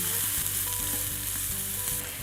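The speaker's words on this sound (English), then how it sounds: "I just want to saute these for a couple of minutes so they soften a little bit." Chopped spring onions sauté in a pan as a vegan quinoa and tofu dish gets underway, giving a steady, close, loud sizzle with no breaks and no voices.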